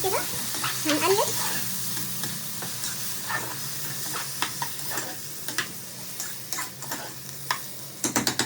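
Vermicelli frying in a pan while being stirred, a soft continuous sizzle with scattered clicks and scrapes of the spoon against the pan, close and fairly quiet, no talking.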